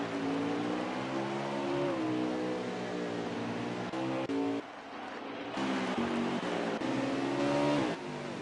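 Race cars pull off pit road in a Gateway racing video game, engines roaring loud and continuous with rising and falling revs and brief shifts, several cars blending together close by.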